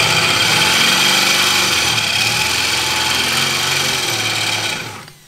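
A power drill whirs loudly and steadily at high speed for several seconds while fitting a roll cage in an Opel Kadett E Caravan, then winds down and cuts off.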